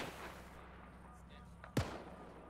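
A single sharp gunshot cracks out once in a military shooter video game, fairly close, standing out briefly against a steady low ambient background.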